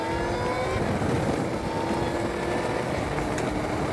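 An Ariel Atom 3.5R circling wet Castle Combe circuit: a loud, continuous engine drone with rising pitch under acceleration, mixed with broad road and spray noise throughout.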